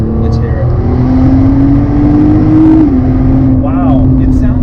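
A Nissan GT-R50 with a turbocharged engine pulls hard in third gear, a loud climbing engine note with turbo rush, then a brief dip as revs settle, with a voice over it.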